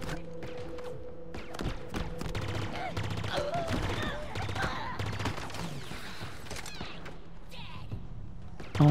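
Pulse gun firing in Halo Infinite, a busy run of rapid energy-weapon shots and bursts of fire with thuds mixed in, steady and fairly loud throughout the battle with no talk over it.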